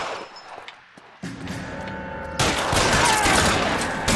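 Gunfire in the L.A. Noire video game, a few sharp reports followed by a sustained loud burst of shots and noise filling the second half.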